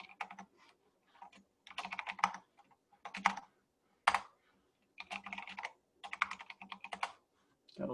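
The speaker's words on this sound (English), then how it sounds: "Gotta love typing passwords during a demo." Someone types a password on a computer keyboard in quick clustered bursts of clicky keystrokes, close and clear, separated by short pauses.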